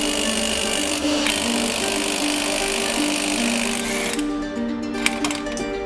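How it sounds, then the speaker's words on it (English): An impact gun on a 17mm swivel socket removes a trailing arm bolt on an Eclipse during rear disassembly. It gives a loud, continuous whirring rattle for about four seconds, then drops to a quieter tail. "The impact gun took care of it."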